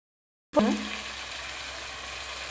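Chicken frying in a pan for pasta being stirred, a sudden scrape and clatter at the start followed by a steady close sizzle that continues to the end.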